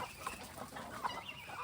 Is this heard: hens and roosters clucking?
yes